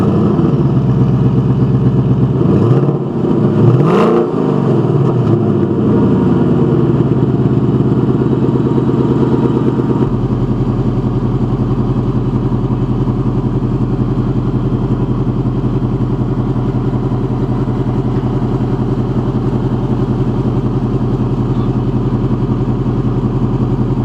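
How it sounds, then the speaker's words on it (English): A 2018 Ford Mustang GT cold start: the engine rumbles loudly and continuously, a deep steady exhaust drone at idle after a brief rising rev near the start, with no voices. "the exhaust really sounds good, which you'll see in the cold start that we have in the video"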